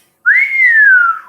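A voice imitates a long, low whistle: one clean sustained tone that rises briefly, then glides slowly downward for about a second, loud and alone.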